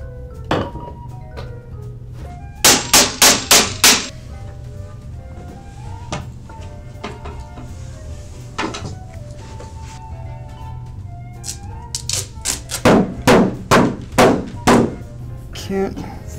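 Two people hammer while putting together a bookcase, with bursts of rapid, loud knocking blows in quick series, separated by quieter stretches.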